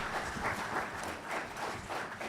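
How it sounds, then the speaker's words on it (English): An audience at a university climate fellowship and grants award ceremony claps in a steady, moderately distant round of applause, the clapping rising and falling in soft waves throughout. "All right, so one more round of applause."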